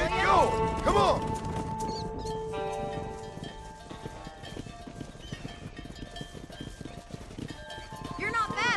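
In the Red Dead Redemption video game, a horse's hooves clip-clop at a gallop during a cattle-herding scene, with a whinny near the start and end, all under busy game sound and voices.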